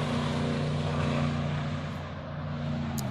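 Steady highway traffic roars continuously beside an abandoned theme park, a dense, even wash of passing vehicles with a low droning hum underneath and no voices.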